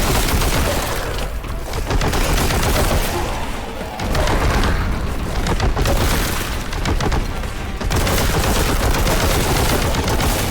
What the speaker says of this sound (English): Gun sound is a little hollow, for lack of a better term.